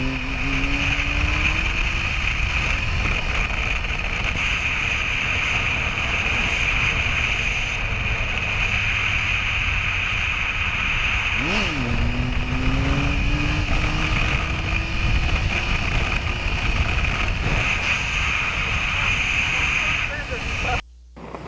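A motorcycle engine drones steadily under heavy wind noise on a long straight road while the rider pulls wheelies, with a brief rise and dip in engine pitch partway through and a sudden cutoff at the end.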